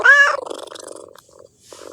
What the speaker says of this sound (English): Hey, silly kitty cat.